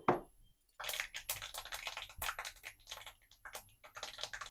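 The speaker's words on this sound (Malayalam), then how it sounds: "കടുക് കുറച്ച് കടുക് ഇട്ടു." Mustard seeds crackle and pop in hot oil in a pan in a Kerala kitchen, a dense run of quick sharp snaps close by that starts after a brief pause and keeps going steadily.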